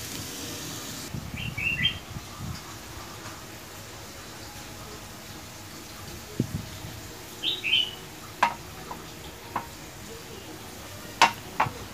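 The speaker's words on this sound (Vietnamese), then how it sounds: "Phi cho nó vàng lên nó mới thơm nha mọi người" Soft frying crackle of aromatics browning in a pan for Vietnamese sour snakehead fish soup, with sharp utensil taps and scrapes, while birds chirp faintly in the background.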